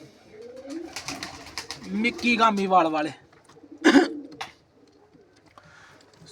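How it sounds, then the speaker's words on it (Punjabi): Pure Galarh pigeons coo softly in a loft, low throaty calls rising between stretches of someone talking nearby. "ਇਹ ਪਿਓਰ ਗਾਲੜ ਕਬੂਤਰ"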